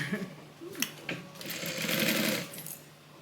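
A sewing machine runs in a short burst while stitching two pieces of a Bible cover together, a close, quick mechanical chatter with a faint voice at the start.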